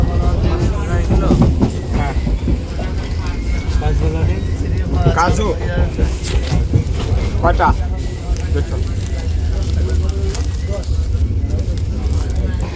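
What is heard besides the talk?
local train arriving at Ranaghat station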